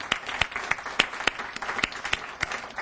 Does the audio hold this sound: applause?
yes